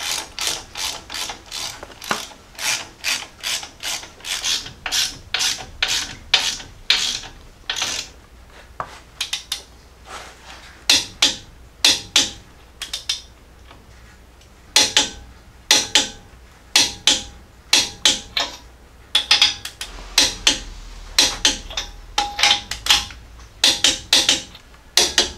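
Ratchet wrench clicking as 9/16 U-bolts are torqued to 87 foot-pounds on a 1978 Jeep J10 during a 3-inch lift install: long runs of loud, close, rapid ratcheting clicks in bursts with brief pauses, no talking.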